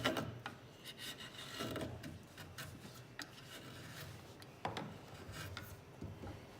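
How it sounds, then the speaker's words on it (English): A woodworking chisel is rubbed back and forth on a diamond sharpening stone in a ukulele workshop, giving a dry rasping scrape in uneven strokes with a few sharper scuffs, fairly quiet and close. "If your chisel's not doing the right thing, we just need to touch it up on the diamond stone"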